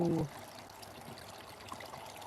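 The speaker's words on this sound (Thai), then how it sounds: "น้ำตกเล็ก ๆ ที่สวนเล็กๆหย่อม" Soft, steady trickle of a small garden waterfall with a brief louder sound at the start.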